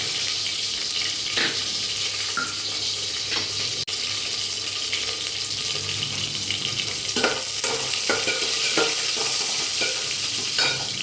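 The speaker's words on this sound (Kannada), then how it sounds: "ಉದ್ದಿನಕಾಳು ಚೆನ್ನಾಗಿ ಫ್ರೈ ಆಗಬೇಕು" Urad dal frying in a pan until reddish for a Mysore-style massoppu saaru, giving a continuous loud sizzle with repeated scraping strokes of the stirring spoon throughout.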